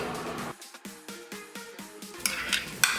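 A spoon clinks and scrapes against a bowl as vegan ranch dressing ingredients, including dill, salt and soy milk, are mixed, giving a series of quick rhythmic taps up close with no talk.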